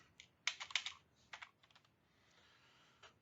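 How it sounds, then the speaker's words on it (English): Bursts of keyboard typing, quick clusters of clicky keystrokes with short pauses between, close and fairly quiet, ending with a single tap. "Sick of typing."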